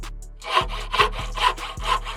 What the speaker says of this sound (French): J'ai vu une scie dans le sac, on pourrait essayer de couper les grilles.